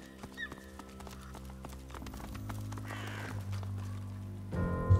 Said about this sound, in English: A lot of crows on him.